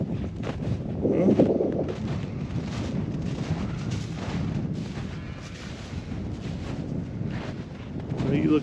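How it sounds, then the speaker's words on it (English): Cold wind blowing through woodland, a steady broadband rush with gusts that swell and fade, close to the microphone and continuous throughout, with faint talk underneath. "that wind's got a bite to it"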